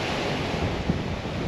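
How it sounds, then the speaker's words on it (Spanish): Sea waves at Bosahan Cove in Cornwall, a steady close rush of surf and wash with wind buffeting the microphone, continuous and fairly loud with no voices. "aquí está el mar"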